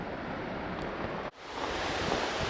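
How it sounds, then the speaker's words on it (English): The South Fork of the Kings River in a Sierra Nevada canyon rushes as a steady, dense roar of water, broken by a brief drop-out just past the midpoint before the flow resumes. "This is the South Fork of the Kings River."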